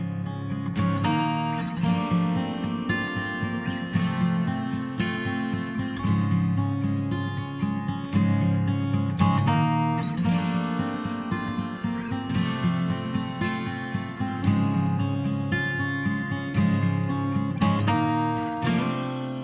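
Full band music with dense instruments and a roomy, wooden-sounding reverb tail from a Relab LX480 Large Wood Room setting blending underneath, steady and continuous with no talking.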